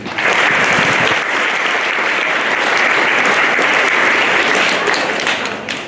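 A hall audience at a school Veterans Day celebration breaks into steady, sustained applause. The clapping is loud and dense, runs nearly six seconds, and tapers slightly at the end.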